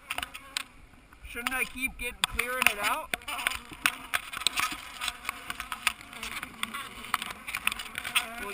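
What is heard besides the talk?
bees buzzing around hive during honey harvest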